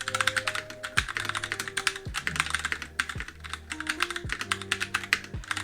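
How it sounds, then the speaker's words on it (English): A Razer BlackWidow Lite mechanical keyboard is typed on at a steady pace, with crisp rapid key clicks in close, even bursts and no speech. "It is comfortable to type, and it is satisfyingly mechanical keyboard like."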